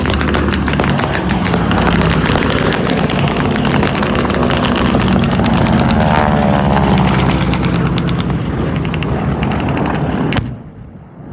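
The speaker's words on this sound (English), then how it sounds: "There's B-17 Texas Raiders simulating a gear-up landing." The B-17 bomber Texas Raiders roars past low during a Pearl Harbor air show re-enactment as it simulates a gear-up landing, with loud, droning radial engines and crackling pyrotechnic pops before the sound cuts off.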